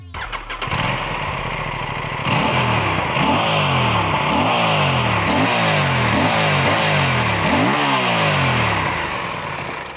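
A sportbike's 270-degree parallel-twin engine starts and revs repeatedly, a loud, deep, raspy growl rising and falling in quick pulses up close.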